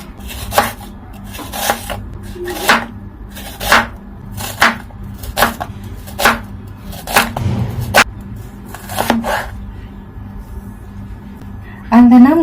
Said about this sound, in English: have 2 medium-sized onions here. I'm going to quickly chop them.